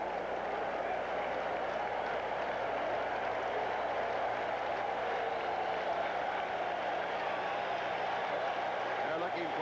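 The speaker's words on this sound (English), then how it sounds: "Here comes the crowd." A baseball stadium crowd at a 1987 Cardinals–Mets game roars and applauds on a full 3-2 count, a dense, steady wall of noise from start to finish with an announcer talking over it.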